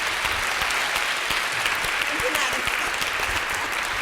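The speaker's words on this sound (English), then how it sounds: "I want a big round of applause again for all of these panelists" An audience at a women-in-leadership panel session applauds the panelists, a steady wash of many hands clapping at moderate level throughout, with scattered individual claps standing out.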